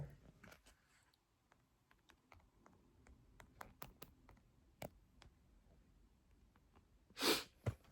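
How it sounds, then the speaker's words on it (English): A single sharp sneeze bursts out loud and close near the end, after quiet scattered tapping and clicking sounds. "ooh, I gotta sneeze. This is a sneeze."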